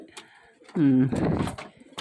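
A fancy pigeon gives one short, close coo, with a voice talking around it at a pigeon sale.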